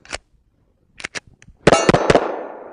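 Springfield Armory 1911 TRP pistol fired outdoors in freezing cold at 7 yards. A few light pops come first, then two loud, close shots about half a second apart, each leaving a long ringing echo.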